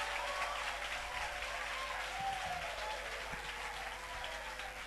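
A church congregation at a revival worship service applauds and acclaims together, a continuous dense wash of clapping heard from within the crowd, steady and fairly loud for the whole stretch.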